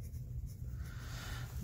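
Soft scratching of a pencil on paper, faint and close, with a low hum in the background.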